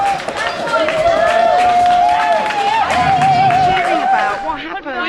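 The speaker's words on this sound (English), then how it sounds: "Cheering about what happened?" A crowd at the Dale Farm eviction site cheers after the eviction is halted. The loud, continuous crowd noise mixes shouts and voices, and a long, wavering whistle-like tone runs through most of it.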